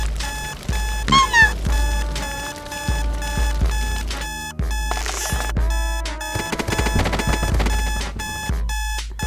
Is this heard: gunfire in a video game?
no